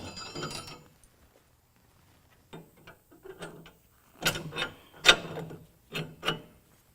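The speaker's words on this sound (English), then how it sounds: "So once you do that, you can just jack it back up." A mechanical jack raising the axle of a 2015-17 Ford F-150 4WD during a 6-inch lift kit install, heard as bursts of ratcheting clicks separated by pauses, close and fairly loud with no speech.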